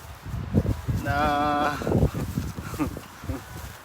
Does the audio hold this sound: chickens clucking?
no